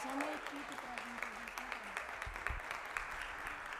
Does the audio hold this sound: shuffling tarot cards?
no